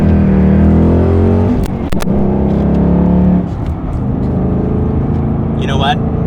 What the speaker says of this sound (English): let's put our foot into it and let you guys hear it with some throttle